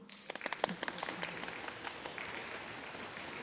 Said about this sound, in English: That's called clapping.